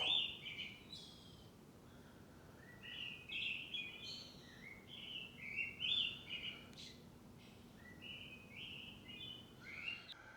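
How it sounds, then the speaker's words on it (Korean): Several birds chirp and sing in quick, overlapping bright phrases throughout, moderately near, over a soft steady outdoor background. "새소리가 너무 예뻐요."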